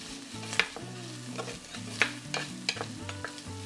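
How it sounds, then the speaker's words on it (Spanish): Chopped onion sautés with chorizo in a pan, a steady sizzle broken by sharp scraping stirs of a spoon, close and continuous. "Vamos a dejar que se sofría muy bien aquí junto con el chorizo"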